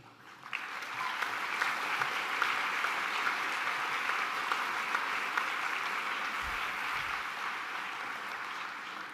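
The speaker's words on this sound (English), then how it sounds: "a big round of applause, please, to all the team" Sustained, dense applause from a large audience at the Aramco F1 in Schools World Finals 2023 awards ceremony, steady and loud throughout with no break.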